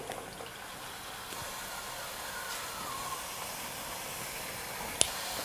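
Thattai rice crackers frying in hot oil in a kadai over low flame give a faint, even sizzle and bubbling hiss, with one brief sharp tick near the end.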